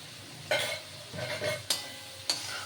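Ground cumin, chilli and coriander are fried in a pan for prawn malai curry, with a few sharp spatula scrapes and knocks over a soft sizzle, close and moderately loud.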